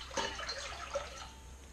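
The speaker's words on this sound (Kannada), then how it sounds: "ಸ್ವಲ್ಪ ನೀರು ಹಾಕಿ" Water is poured into a pot on the stove while making boiled, salted raw mango gojju, a brief, faint, splashy pour with no talk.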